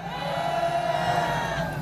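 A crowd at a Korean patriotic street rally of the Korean Patriots' Party roars and shouts in sustained cheering, a steady near wash of voices welcoming a party leader to the stage.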